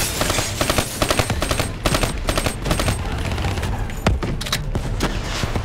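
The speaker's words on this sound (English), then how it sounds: "Get your ass down here. I'm taking heavy fire." Heavy automatic gunfire in the Call of Duty Black Ops 3 video game, rapid overlapping bursts and clattering shots firing nearly nonstop, loud and close with a few sharper impacts near the end.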